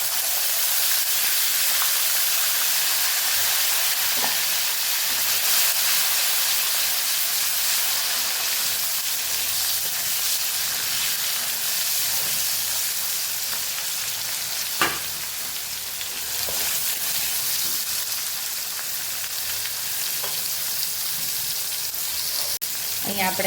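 Green garlic, cumin seeds and asafoetida sizzle in hot oil, a steady loud hiss filling the whole stretch, with an occasional spoon knock and faint talk underneath.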